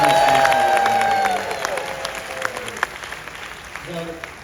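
During a presentation of cruise ship features, a crowd claps and cheers in a show-of-hands vote. The applause is loud at first and fades after about a second, and a voice and murmuring crowd follow.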